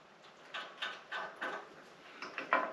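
Bolts with nylon locking nuts being tightened on a roof rack: a series of about eight short, rasping ratchet-like bursts in a steady rhythm, close by and fairly quiet.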